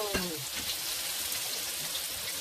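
Shrimp egg foo young frying in oil heated to about 380 degrees, a steady soft sizzle and crackle with a brief splash of contact at the start.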